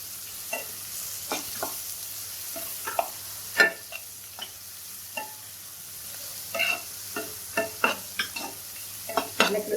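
Baby potatoes frying and being stirred in a pan, with irregular scraping and clattering hits over a faint steady sizzle, close by and with no voices.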